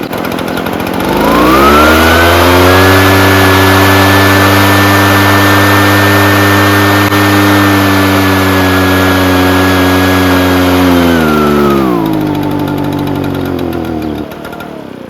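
An Echo PB-755ST backpack leaf blower with a replacement carburetor runs at almost full choke, revving up to a loud steady high-pitched drone, holding it for about ten seconds, then dropping back to a lower idle.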